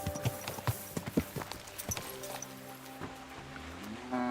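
Hooves clip-clop in a steady walking rhythm on a hard surface in the video game Kingdom Come: Deliverance 2, with faint tonal music underneath and occasional clinks.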